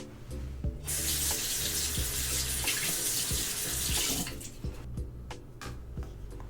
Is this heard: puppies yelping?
no